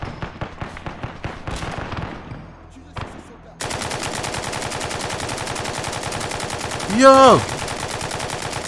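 Arma 3 battle with NATO forces: rapid bursts of automatic gunfire crackle close and loud, then a brief lull before dense sustained firing resumes, with a sharp whizzing sweep near the end and a short shout.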